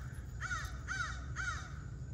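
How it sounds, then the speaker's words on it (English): Three harsh crow caws in a steady rhythm, moderately distant, over a low background rumble, in a summer garden. "You hear those birds in the background?"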